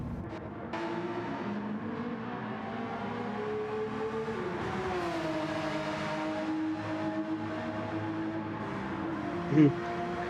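Porsche race car engines in a sim racing video game, a steady whining engine drone rising and falling in pitch with shifting tones as cars run on track, while a voice talks over it.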